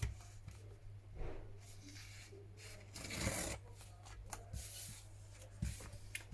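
Paper being trimmed for a handmade photo tag, a soft rasping, rubbing cut with a few light scrapes and a slightly louder stroke midway, close and quiet over a steady low hum.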